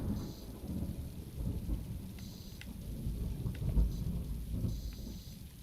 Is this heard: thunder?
yes